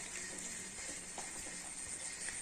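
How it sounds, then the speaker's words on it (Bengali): Heavy rain falls outdoors on a flooded street, a soft, steady, even hiss heard faintly from a distance. "এখন আবার বেশি জোরে বৃষ্টিটা নামিয়ে দিয়েছে"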